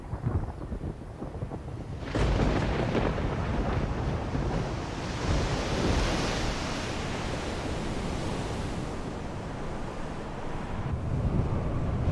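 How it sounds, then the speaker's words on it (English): Huge storm waves on the wild North Atlantic crash and roar in a dense, wind-blown wash of surf that surges loudly after a quieter start and stays steady and full for the rest of the stretch. "Waves, bigger than whales,"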